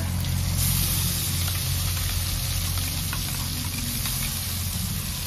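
Spinach fries in hot oil seasoned with asafoetida, giving a loud, continuous, dense sizzle that holds steady throughout with no talking.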